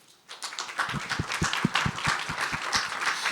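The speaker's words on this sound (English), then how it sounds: "Please give another big round of applause" Seminar audience applauding at the close of a panel session on foreign and security policy, steady dense clapping that swells in and holds, with a few louder nearby claps standing out.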